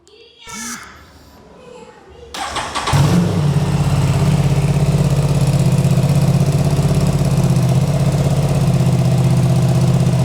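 A motorcycle engine sputters to life and then idles with a steady, loud low rumble, a few brief voices and clatter just before it starts.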